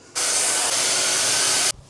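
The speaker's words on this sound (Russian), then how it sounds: "Это вот этот спрей. Я наношу его вот так обильно." A steady, close hiss of an aerosol hair spray released in one continuous burst lasting about a second and a half, then cutting off abruptly.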